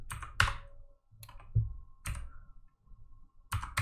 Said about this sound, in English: I'm typing in these values because